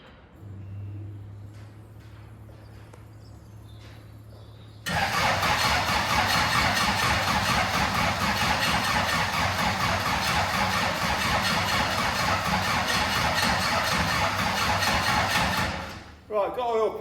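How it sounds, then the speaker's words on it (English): A 1963 MGB FIA race car engine is cranked over, a dense, steady mechanical churning that begins abruptly after a few quiet seconds with a low hum and runs continuously for about eleven seconds before stopping. "I'm gonna wind it over to get a bit of oil pressure up, and then see if it will start."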